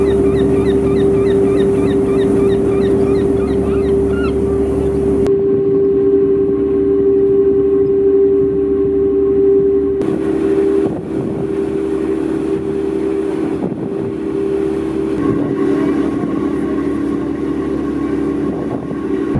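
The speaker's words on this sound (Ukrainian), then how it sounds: "бо працюють двигуни цього парому" Ferry engines run with a loud, steady low drone and a constant mid-pitched hum, accompanied by rushing water and deck vibration throughout, with no voices audible.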